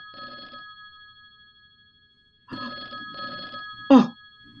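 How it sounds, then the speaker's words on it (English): A telephone rings in a radio drama, its bell sounding in two clear bursts separated by a pause, with a brief sharp exclamation from a voice and some spoken dialogue around the rings. "That is my telephone ringing, isn't it?"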